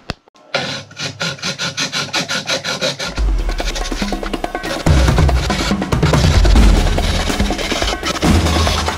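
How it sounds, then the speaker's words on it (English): A blade rasps in quick, even back-and-forth strokes while cutting a slot into a boat's forestay swivel, then gives way to a louder, denser grinding roar that continues to the end, with no voices. "So what I'm going to do is I'm going to do a cut right down the side"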